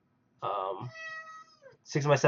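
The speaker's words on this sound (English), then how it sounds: "that's my cat" A clear, close cat meow with a rising then falling pitch, followed shortly by a second meow; quiet room, no other sounds.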